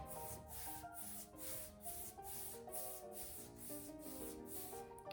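A paintbrush lays chalk mineral paint onto wood in soft, rhythmic swishing strokes, repeating steadily about twice a second over a constant tonal backing.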